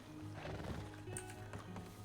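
A horse in the RedM (Red Dead) video game makes a short whinny and snorting sounds with light hoof clops, faint and close, over a low background hum.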